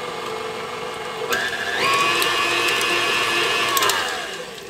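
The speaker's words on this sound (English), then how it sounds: "I've got 2 sticks of butter in my mixer, and I'm going to mix that a bit." A stand mixer whirs steadily as it beats two sticks of soft butter, its motor pitch rising as it speeds up and then easing down toward the end. The mixer is close and loud, with no talking.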